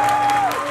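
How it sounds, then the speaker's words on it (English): Audience applause after a round winner is announced at the Mister International 2023 pageant, a short dense burst of clapping, loud and steady, with a faint tone running through it. "A big round of applause, please."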